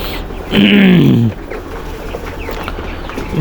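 A small farm-raised broiler chicken squawks loudly and close by for about a second as it is weighed, followed by quieter shuffling and faint background sounds.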